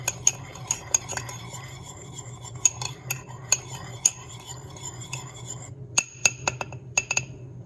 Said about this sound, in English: Give it a little mix up.